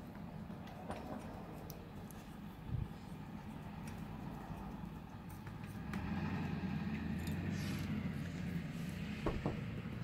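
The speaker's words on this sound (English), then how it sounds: "Sorry for the noisy diesel in the background." A diesel engine runs somewhere in the background with a steady low rumble that swells louder in the second half, broken by a few light clicks nearby.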